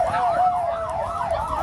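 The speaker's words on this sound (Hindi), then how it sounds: "पूरे इलाके में सायरन की आवाज गूंजने लगी" A siren wails loudly, its pitch rising and falling steadily, with faint traffic rumble underneath.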